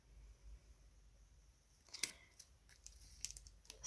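Scissors snip a small line in paper while making an interactive Gorjuss album page, a sharp close cut followed by several lighter crisp snips and rustles against a very quiet room.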